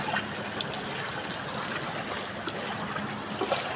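Running water flowing over a flooded footpath in the rain, a continuous close trickling and splashing stream with a steady level throughout and no speech.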